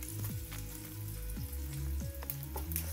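Garlic and pork sizzle in hot oil with a steady crackling fry, close and moderately quiet, punctuated by a few sharp clinks of utensils against the pan.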